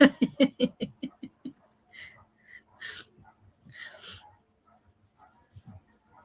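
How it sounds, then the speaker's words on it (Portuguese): A dog barks in a quick run of about eight sharp barks at the start, then falls quiet as soft voices, a chuckle and breathy sounds follow faintly. "É porque o cachorro tá aqui latindo"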